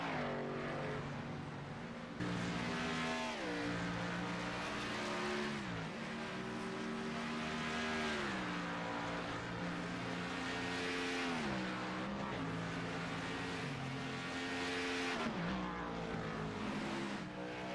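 Engine of a race car in a racing video game at the Glen, rolling out for a qualifying lap: a continuous buzzing drone that climbs in pitch through the gears, drops at each shift and climbs again, steady and prominent throughout.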